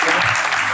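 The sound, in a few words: audience applauding in church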